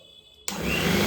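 An electric mixer switches on abruptly and whirs steadily at close range while beating cupcake batter, after a brief quiet lead-in with faint hum.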